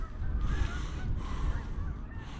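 A flock of geese honking at a distance over open farmland near corn stalks, faint overlapping calls repeating through the moment.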